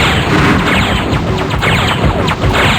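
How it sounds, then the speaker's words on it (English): Transport ships exploding in the space combat game Wing Commander 3: a dense, continuous roar of crashing blasts and booms, loud and close throughout. "Taking a lot of damage from the explosions of the transports."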